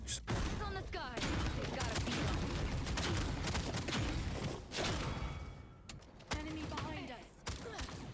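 Rapid gunfire from Ash's primed weapon in the hero shooter Paladins, a dense loud volley of shots and thuds with whooshes, continuous over game effects with brief gaps.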